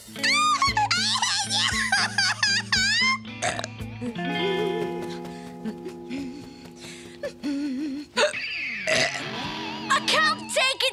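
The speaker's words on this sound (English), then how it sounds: "I've got to stop these hiccups!" A cartoon boy, Dennis, hiccups repeatedly, the hiccups mixed with squeaky, burp-like vocal noises and giggly sounds over a cartoon soundtrack, loud and close throughout.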